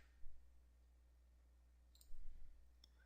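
A couple of computer mouse clicks during username copying, brief and faint against near silence, one pair early and another cluster later.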